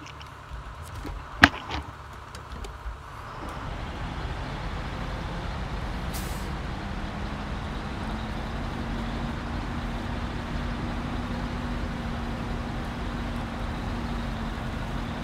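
A heavy truck in SnowRunner gives a sharp air-brake hiss and clunks early on, then settles into a low, steady engine drone that grows slightly louder and holds to the end.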